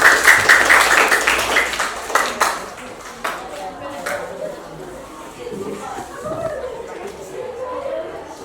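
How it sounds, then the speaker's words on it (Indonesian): Brief classroom applause for a presenting group, loudest at the start and fading over about three seconds, after which a voice speaks. "Tepuk tangan untuk kelompok"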